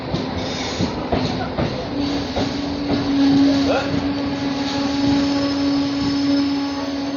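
A train rolls into a station on the way to Bhavnagar, a loud sustained rumble with a steady tonal hum, rhythmic wheel clicks and faint squeals, heard up close.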